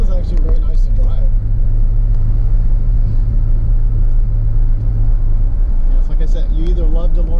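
A DeLorean driving along, its engine a steady low rumble with road noise filling the cabin as a person talks over it.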